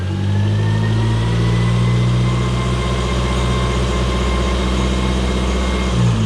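A Dodge Daytona IROC R/T engine with noisy lifters runs steadily close to the microphone. A loud, continuous low rumble carries a fast ticking chatter throughout, with no talking.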